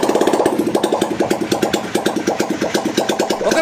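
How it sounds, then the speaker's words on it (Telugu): A freshly rebored motorcycle engine runs close by, its exhaust thumping in a steady, even rhythm of firm beats throughout, with no voices. "ఇంజిన్ బీటింగ్ అనేది చెక్ చేయండి"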